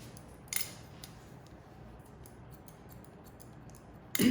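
Scissors point cut into short hair in a women's salon cut, giving a few faint, sparse snips and clicks close by, with a louder rustle at the end.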